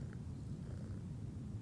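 A cat purrs softly and steadily at close range, a low continuous rumble with no voices over it.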